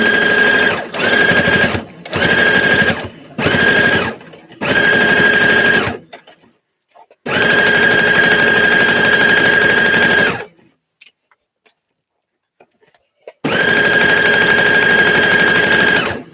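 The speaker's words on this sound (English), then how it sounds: "Oh yeah, the sewing." A sewing machine stitches bias binding in a series of short bursts that give way to two longer runs, loud and close, with near-silent pauses in between.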